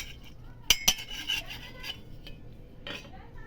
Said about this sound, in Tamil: இப்போ இதை மிக்ஸி ஜாரில் சேர்த்துக்கலாம்.